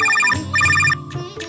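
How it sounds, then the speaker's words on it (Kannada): A mobile phone ringtone sounds for an incoming call, repeating melodic beeping phrases in short bursts, loud and close, with no talking over it. "ನೋಡು, ನೆನಪಿಸಿದ ತಕ್ಷಣ ನಿಮ್ಮ ಅಪ್ಪಂದೇ ಫೋನು"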